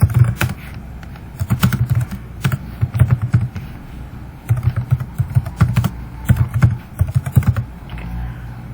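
Computer keyboard typing in a Word document during a Hindi-Urdu computer lecture: close, crisp keystrokes in uneven bursts with short pauses, no voices.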